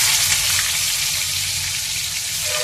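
Dried silver fish for an egg curry frying in a pan give a steady, close, even sizzle that runs throughout with no talking.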